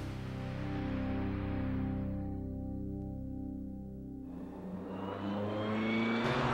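Race cars lapping the Laguna Seca racetrack in California, with a steady engine drone that fades, then swells again with a louder, closer engine roar near the end.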